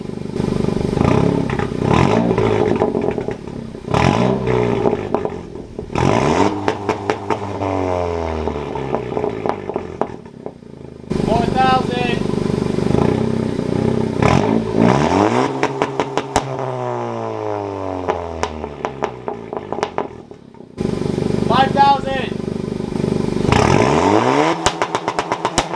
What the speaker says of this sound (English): We're going to rev it at 3K, 4K, and 5K after operating temperature